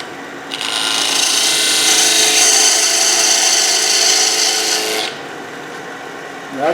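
Thin rotary cutoff wheel cutting into a carved wooden gnome or tree piece, giving a loud steady high-pitched grinding rasp for several seconds before stopping abruptly.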